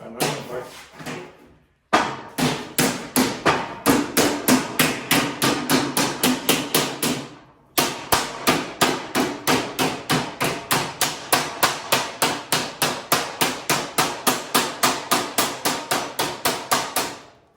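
Rapid, steady hammer blows ringing on sheet metal for a car body, close and loud, continuing in long runs with a brief pause partway through.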